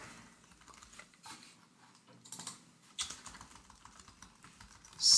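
Fingers type on a computer keyboard in quick irregular bursts of soft clicks and clacks, close and fairly quiet, ending with a louder keystroke, with no talking.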